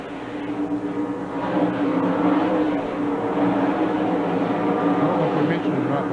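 NASCAR stock cars racing at the 1999 Goody's Headache Powder 500, a steady loud roar of engines that swells after the first second and holds, with commentary voices over it.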